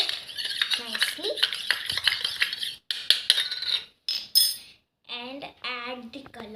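Runny homemade slime is stirred by hand after glue is added. The stirring comes through as close, wet squelching and scraping strokes in uneven bursts, with short pauses and a few tonal squeaks toward the end.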